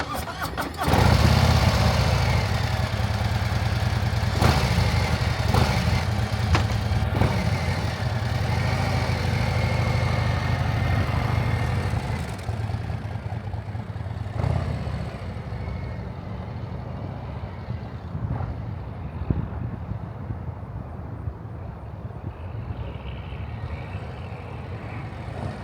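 A 2025 Harley-Davidson Low Rider S motorcycle engine starts up close by with a sharp burst, then settles into a deep, loud, lumpy idle with a few throttle blips before easing to a quieter rumble.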